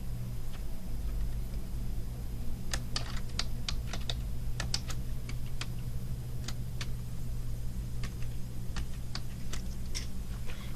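A password is typed on a computer keyboard, giving soft, irregular key clicks in small clusters over a low steady hum of room noise.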